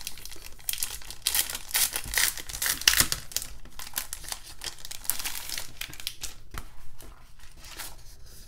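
Sheets of plain, unlined Disney Princess planner paper from a 40-sheet pack crinkle and rustle as they are handled and flipped, giving a near, steady papery crackle with sharper bursts and no talk.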